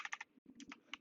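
Quick keystrokes on a computer keyboard, a short burst of several taps, a brief pause, then more taps, close and faint.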